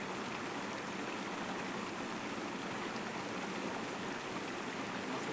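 A river flows with a constant, even rush of broadband water noise, steady and unbroken throughout, with no voices.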